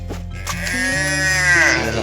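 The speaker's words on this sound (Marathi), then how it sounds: "आई वासरू बघा" A calf on a farm in Konkan, Maharashtra, gives one loud, drawn-out bleating call, close by, over a low background rumble.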